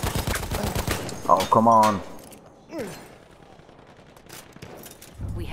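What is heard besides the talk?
gunfire in the video game Battlefield 1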